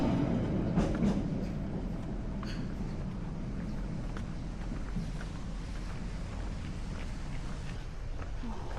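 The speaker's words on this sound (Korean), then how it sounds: "아래는 해변 열차가, 위에는 스카이 캡슐이 달리고 옆으로는 사람들이 걷습니다." A Haeundae Blue Line beach train runs along the Busan coastline, giving a steady, continuous low rumble of moderate loudness with light wind buffeting and no break.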